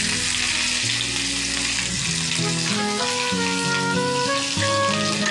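Shallots fry in hot oil, giving a continuous loud sizzle that runs the whole time with a faint background tone, no one speaking.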